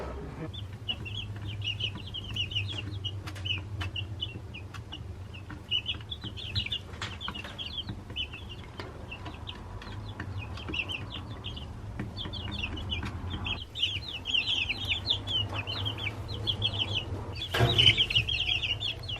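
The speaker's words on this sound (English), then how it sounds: "there is 14 chickens in our garage" Fourteen young chicks in a glass tank inside a home garage cheep and cluck continuously, a steady chorus of small high peeps with an occasional flutter of wings, close by and moderately loud.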